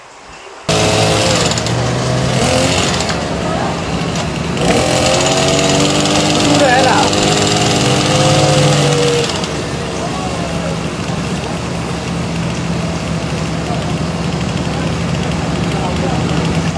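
A steady, loud engine drone runs throughout after a brief quiet start, with a voice talking over it partway through.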